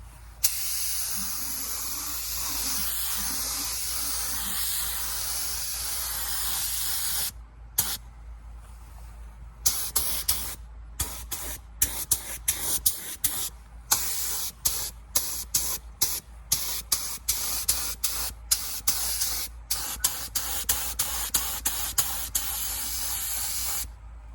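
Spray paint hissing onto a Ford 289 V8 engine being built for a run stand, a steady hiss for several seconds and then many short, sharp bursts in quick succession, close and loud with no talking.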